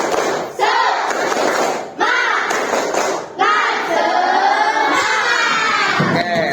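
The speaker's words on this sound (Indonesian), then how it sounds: "1, 2, tepuk semangat." Students in a classroom performing a rhythmic clap-and-shout cheer, loud bursts of unison clapping and chanted shouting in several phrases with short pauses, close and energetic.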